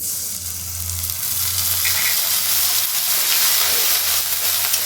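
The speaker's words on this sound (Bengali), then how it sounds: "এবার এখানে আমি আদা পেস্টটা দিয়ে দিলাম" Ginger paste sizzling in hot oil with onions that have been fried until lightly reddish, a continuous loud hissing fry heard up close with a low steady hum beneath and no voices.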